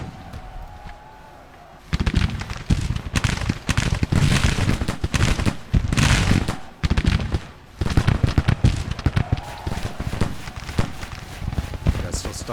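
Artillery fire booms during a Civil War battle in Grand Tactician: The Civil War. The loud, dense blasts and cracks come in bursts with brief lulls between them, and a voice talks over the barrage.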